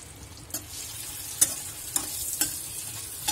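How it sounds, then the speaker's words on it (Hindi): Eggs fry for egg curry in hot oil in a pan seasoned with Kashmiri red chilli, giving a steady loud sizzle with occasional stirring clicks and no voices. "हमारे अंडों को इसमें तलेंगे"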